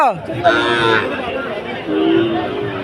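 Cattle of Sahiwal and Friesian breeds at a busy village cattle market; a loud, close moo opens amid a steady murmur of crowd chatter and bargaining voices.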